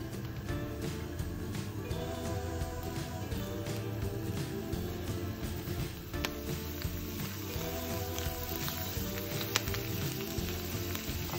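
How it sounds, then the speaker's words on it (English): Steady, close crackling sizzle of garlic and purslane frying in a pan, continuous and fairly quiet, with occasional louder pops and no talking. "once it starts to sizzle, you'll want to slowly add in"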